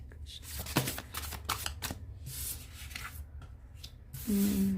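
Tarot cards are shuffled by hand, giving quiet, close riffling and rustling in short irregular bursts, with soft papery sliding between them and a brief tone near the end.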